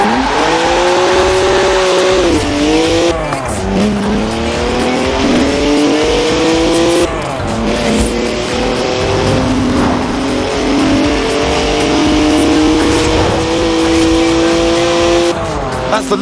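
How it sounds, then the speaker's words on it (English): A BMW 1M with a 3-litre twin-turbo straight six, 335 horsepower, races in Forza Horizon 4, its engine loud and continuous with rising and falling revs and gear changes, alongside tyre squeal and a little speech. "3-litre straight six, 335 horsepower, 2 turbos, and as much sideways action as you like."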